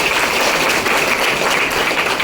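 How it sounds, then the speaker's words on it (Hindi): Loud, dense applause from a crowd at a political gathering for the state chief minister, steady clapping throughout with no voices over it. "एक बार जोरदार ताली प्रदेश के मुख्यमंत्री के लिए"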